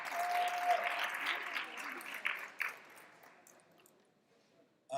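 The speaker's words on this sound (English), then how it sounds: "let's give them a round of applause, please" Soft, distant applause from a secondary school graduation audience swells briefly, then fades to near silence over a few seconds, with no talk heard.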